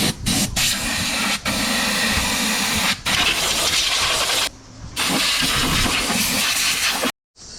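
Foam cleaner sprayed in steady hissing bursts while cleaning the windshield cowl area of a Mercedes-Benz W211 E 320 CDI, loud and close, broken by a few short pauses and a brief gap near the end.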